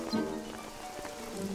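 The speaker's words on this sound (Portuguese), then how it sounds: "Com tanta chuva?" Rain falls in a cartoon scene, a steady soft patter of drops under a musical backdrop, continuous and moderately quiet.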